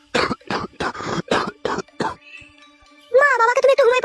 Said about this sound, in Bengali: মা বাবার কাশিটা আমার বাড়ছে দিন দিন।